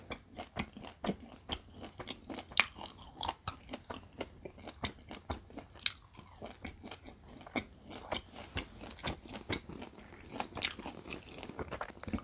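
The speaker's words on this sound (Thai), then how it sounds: "ข้างในเขาจะมีเม็ดเม็ดค่ะ เคี้ยวเพลินมากเลย" Dried dates with small seeds inside being chewed close up, a steady run of crisp bites and crunchy mastication clicks with no talking.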